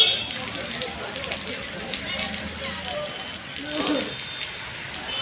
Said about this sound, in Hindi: सोलन में बारिश का दौर लगातार जारी है।